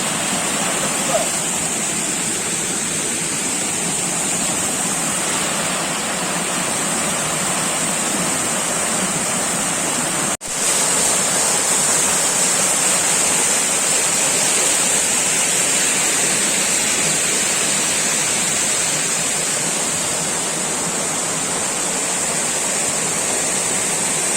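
Clear, cold stream water rushes in a loud, continuous, close roar that covers the whole stretch, broken only by one brief dip.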